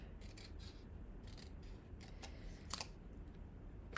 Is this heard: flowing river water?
no